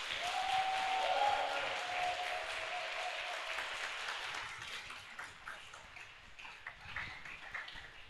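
Church congregation applauding, a broad steady wash of clapping that swells early then thins into scattered claps, with a faint sustained tone near the start.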